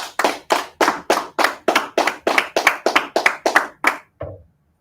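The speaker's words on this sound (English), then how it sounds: "Clap it up, clap it up." A group claps hands in a steady, fast unison rhythm, about fifteen sharp claps in a row that end with a softer final clap, loud and close.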